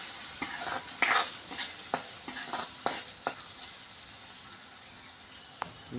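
Spices are roasted in a pan with chilli, turmeric, garam masala, coriander-cumin powder and salt. A soft sizzle carries a run of rhythmic spatula scrapes and taps that fade to a quieter hiss with one late click.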